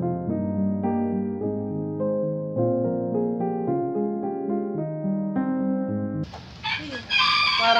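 A farm rooster lets out a loud, strained crow near the end, after several seconds of steady tonal music.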